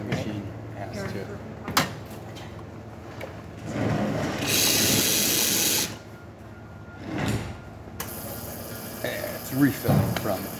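A Rocket espresso machine, just serviced and deep cleaned, refills with hot water in loud bursts of hissing rush, broken by clanks and knocks, with voices speaking nearby.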